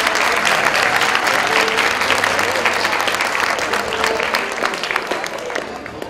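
An audience at a school graduation ceremony gives a sustained round of applause for the newly graduated students, loud dense clapping that holds steady and slowly thins toward the end, with a few voices faintly mixed in.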